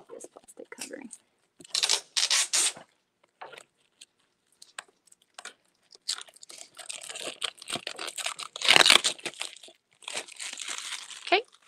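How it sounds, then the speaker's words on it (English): Plastic wrap being peeled and crinkled off an art canvas for a forest painting craft kit, in bursts of crackling and rustling separated by short pauses, close by. "get a way to like pull off this plastic covering"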